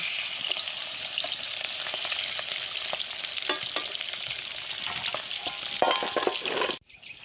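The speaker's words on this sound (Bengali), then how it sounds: "ওদিকে আমার মাছ ভাজা হচ্ছে," Fish pieces frying one by one in hot oil in a kadai, a steady crackling sizzle with scattered pops and utensil clicks, ending abruptly.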